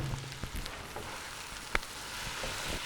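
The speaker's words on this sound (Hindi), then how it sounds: "शामिल करने के बाद हमने इसको कीमे के साथ भून लेना है।" Cauliflower and minced meat fry together in a pan over low heat with a soft, steady sizzle and a faint clink of a utensil partway through.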